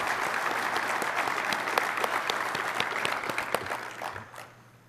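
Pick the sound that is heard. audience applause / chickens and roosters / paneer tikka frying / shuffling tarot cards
audience applause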